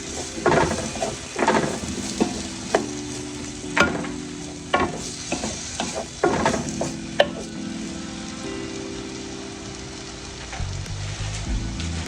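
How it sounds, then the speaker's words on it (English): Chopped grape tomatoes go into a pot already used for sausage and are stirred. Irregular scraping and clattering stir sounds mix with a light sizzle over background music. "Then we're gonna add in a few chopped grape tomatoes. And I'm just using the pot that I used from the sausage."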